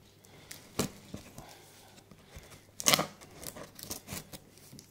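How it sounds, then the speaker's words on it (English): A sharp knife slices open a Nike Free Runs 2 shoe box in two quiet, brief cutting and tearing bursts over a soft background. "I've got a knife, a sharp knife, that could cut through anything. So cut the thing open."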